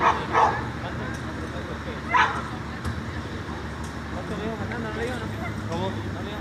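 A dog just pulled from the Pamplonita river by police yelps and whimpers in short bursts while people talk nearby, with traffic faintly behind.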